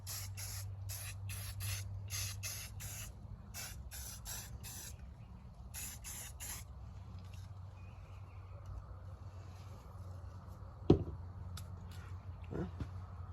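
Aerosol can dusting a gun with light green or tan paint over dark green, a series of short close hissing bursts in quick succession, then quieter handling noises with a sharp tap near the end.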